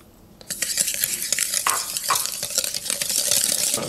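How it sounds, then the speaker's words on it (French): Egg yolks and sugar whisked briskly in a bowl for a chocolate-vanilla Christmas log, a steady close scraping and clicking rhythm running continuously without pause. "on va mélanger les jaunes avec le sucre. On va fouetter tout ça."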